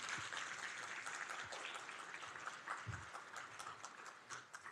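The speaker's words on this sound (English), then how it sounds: "Please give Dr. Guerin a round of applause" A university faculty audience applauds a speaker at an institute gathering, a steady wash of many hands clapping throughout with no talk on top.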